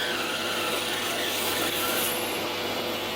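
A drill bores a 45 mm deep hole with chips clearing, giving a steady, dense grinding hiss that runs unbroken and fairly close throughout.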